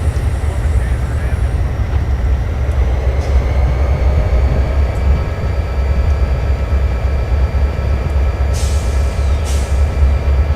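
A freight train rolls past in Train Simulator on the route from Victorville to San Bernardino, a loud, steady low rumble with faint high squeals and a brief hiss of air near the end.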